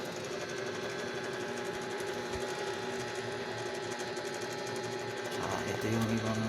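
An electric fan runs in a small room of a modest home, giving a steady mechanical whir with a constant motor hum that stays even throughout, shifting slightly near the end.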